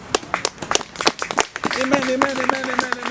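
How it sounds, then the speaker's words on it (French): Church congregation clapping in scattered sharp claps that build into steadier applause, with a voice speaking over them. "Applaudissez-vous."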